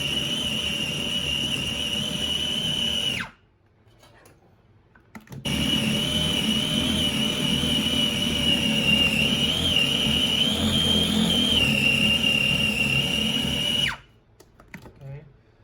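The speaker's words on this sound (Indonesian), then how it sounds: "Food processor itu cenderung ngalusin bahan makanan ya, jadi kayak kalau di blender kan hancur" A food processor grinding meatball ingredients for crispy fried meatballs, a loud whirring motor run close by, stopping briefly, restarting for a long stretch, then cutting off near the end.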